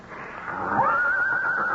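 A horse whinnies in a radio drama, the blue roan stallion calling: a rising, sustained neigh that climbs and holds a wavering high pitch for about a second, fairly loud and close, with no talking over it.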